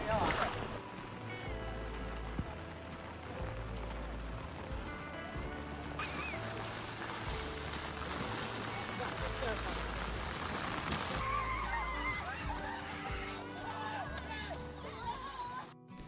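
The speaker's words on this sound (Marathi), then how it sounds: "पाऊस केवढा जोरात पडतोय बघा" Heavy monsoon rain in Konkan pours down in a dense, unbroken hiss, drumming steadily on surfaces close by, loud and constant throughout.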